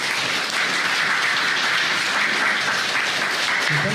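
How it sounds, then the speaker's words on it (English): A conference audience at a Los Angeles general assembly gives a panel of speakers a round of applause, a steady wash of many hands clapping at even loudness that continues throughout. "Give them all a round of applause."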